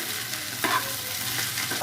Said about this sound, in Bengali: একটু ভাজাবো